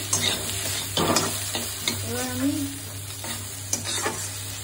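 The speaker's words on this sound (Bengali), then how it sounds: "আলু পেঁয়াজটা ভাজা ভাজা হয়ে গেছে" Potatoes and onions frying in a pan, a low steady sizzle broken by repeated scraping stirs, with a short bit of talk in the middle.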